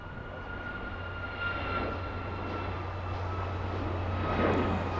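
A Korean Air Boeing 747 rolls along a runway at LAX after landing, a steady distant jet engine roar that swells slightly, with constant background hum and no voices.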